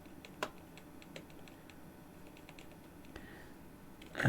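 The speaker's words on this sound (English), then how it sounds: "I'm just focused on cleaning my F keys at the moment." A computer keyboard's F keys clicked while being cleaned, quiet scattered taps and clicks at an irregular pace, close by, with a louder knock at the very end.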